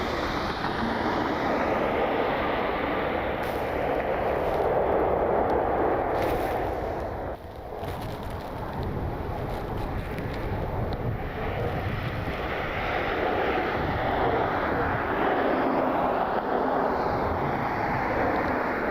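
An Atlas Air Boeing 747 lands at Cleveland Hopkins, its loud jet roar rumbling steadily and close, with heavy wind buffeting the microphone and a brief dip midway.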